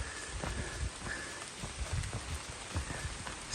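Steady rain patters on a hiker's waterproof jacket on the Appalachian Trail, a dense close hiss of drops with irregular louder taps spread through it, no voices.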